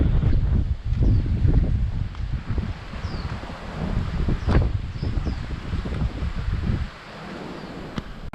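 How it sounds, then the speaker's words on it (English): Gusty wind on a coastal road in Coloane, Macau, buffets the microphone in uneven rumbling bursts, loud and close, easing off briefly toward the end. "And it's pretty windy today."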